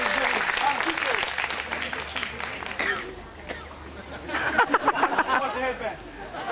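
An audience at a 2005 Kiwanis world convention in Hawaii claps in scattered bursts amid crowd chatter and some laughter, with the clapping swelling again toward the end.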